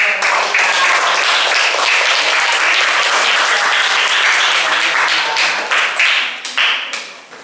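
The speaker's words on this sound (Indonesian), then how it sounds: "Berikan tepuk tangan yang meriah" An audience gives lively applause at an educational session, dense clapping from many people sustained at full strength before tapering off in the final second or two.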